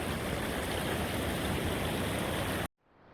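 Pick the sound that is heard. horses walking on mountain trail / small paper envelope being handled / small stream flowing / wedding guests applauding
small stream flowing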